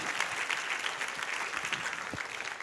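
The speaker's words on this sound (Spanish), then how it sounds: "Dale un aplauso bien fuerte al Señor, por favor." Church congregation applauding together during a worship service, a steady dense wash of clapping that fills the whole moment without any voices over it.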